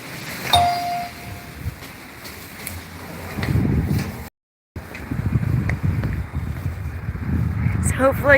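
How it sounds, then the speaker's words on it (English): Steady strong wind buffets the microphone, rumbling low throughout, with a single ding early on and a brief dropout midway. "Oh, really windy."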